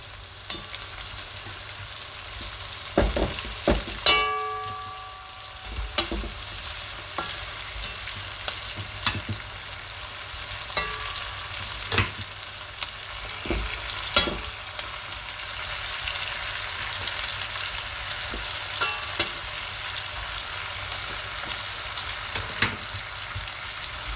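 Beef short ribs set back into a hot pan, a continuous close sizzle broken by sharp crackles, spits and a few clunks of the meat and utensils against the pan, with no talking.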